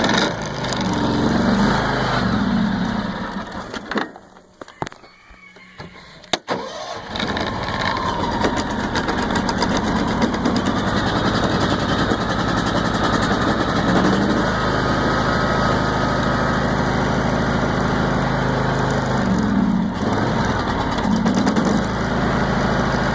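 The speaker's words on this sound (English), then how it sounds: "A 60-second x300 cold start video." A John Deere X300 lawn tractor engine runs after a cold start with the choke set, a steady, close, loud small-engine drone that dips briefly early on before holding a constant idle.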